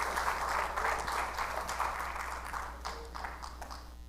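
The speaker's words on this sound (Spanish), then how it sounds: "Dele palmas al Señor por todo lo que Él ha hecho por cada uno de nosotros." Church congregation at a Spanish-language service applauding, a sustained round of clapping that fades slightly toward the end, with a few brighter individual claps.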